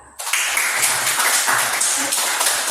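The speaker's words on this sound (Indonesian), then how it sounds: "Kita tepuk tangan lagi." Children in a classroom lesson burst into clapping after a brief quiet moment, and the dense, steady applause carries on to the end.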